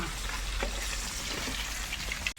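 Pieces of rui fish fry in hot oil in a pan, giving a dense, continuous sizzle and crackle that stays fairly close and steady throughout.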